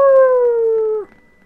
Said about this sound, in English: Do you hear the wolves howling?